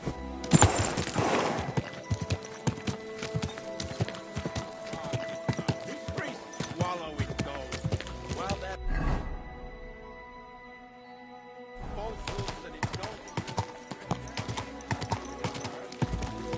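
Steady clip-clop of horse hooves with a whinny in Kingdom Come Deliverance 2, close and rhythmic over about sixteen seconds, pausing briefly in the middle before the hoofbeats resume, while a voice speaks.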